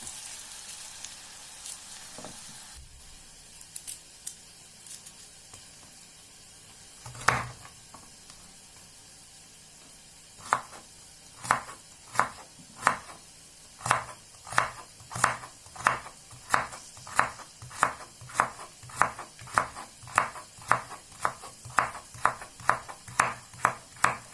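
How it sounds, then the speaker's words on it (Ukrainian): A knife chops carrot on a board in a fast, regular series of crisp knocks, with quiet sizzling underneath. "нарізаю моркву"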